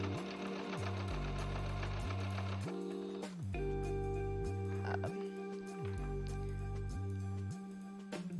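A sewing machine stitching quilt binding runs in repeated bursts of rapid mechanical whirring, stopping briefly between runs, close and steady.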